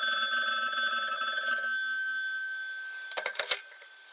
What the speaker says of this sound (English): an old friend named James Bernard Herman rang Frederick up